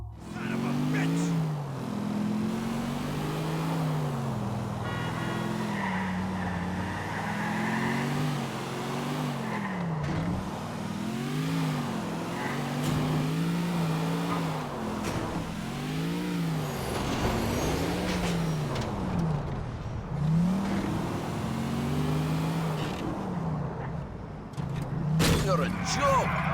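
A stolen pickup truck driven in GTA IV, its engine revving up and down in repeated surges as it speeds along, loud and continuous, with voices talking over the drive.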